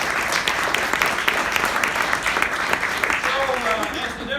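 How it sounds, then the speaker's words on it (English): A room full of people claps in a lively round of applause, crisp individual claps standing out in the dense wash, with a voice speaking briefly near the end. "give yourself a big round of applause"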